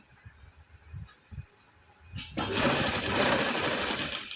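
Sewing machine stitching along a shirt neckline, a loud continuous whirring burst starting about halfway through after a few soft handling knocks, running steadily to the end.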